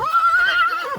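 A stallion gives one loud, close neigh, a high wavering whinny lasting about a second.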